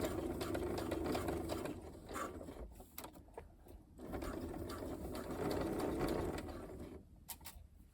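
A sewing machine runs a straight stitch seam with a 6mm allowance, a soft rapid mechanical whirring and clatter that runs in bursts with brief pauses and small clicks between, quiet and close, with no voices.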